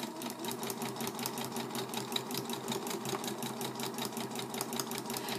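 A sewing machine runs fast, stitching black thread through fabric with a steady, rapid mechanical chatter that is close, even and continuous.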